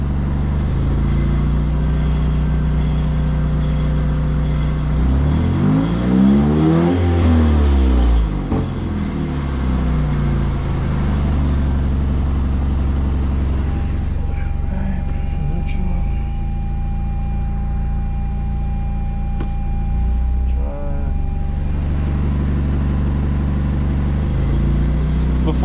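A 2017 Lexus IS200t engine runs steadily while the car sits on jack stands in reverse gear, with a loud continuous hum, a swelling rev in the middle and a lower drone later.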